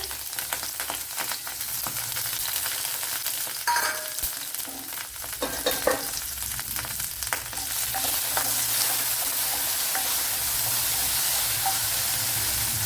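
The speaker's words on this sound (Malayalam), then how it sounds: "ഇവിടെ കുറച്ച് ഓയിൽ ചേർത്ത് കൊടുത്തിട്ടുണ്ട് അപ്പോൾ ഇതിലേക്ക് ഒരു മൂന്നാലല്ലി വെളുത്തുള്ളി ചെറിയ പീസ് ഇഞ്ചി ഇത്ര ഇട്ട് കൊടുക്കാം" Garlic cloves and small pieces of ginger fry in hot coconut oil for a sadya-style parippu curry, a steady loud sizzle with brief stirring clatter near the middle, continuous throughout with no talking.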